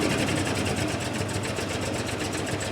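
A 1969 Land Rover Series 2a six-cylinder engine idles steadily, a close, continuous low mechanical rumble with a faint rhythmic ticking, and no voices.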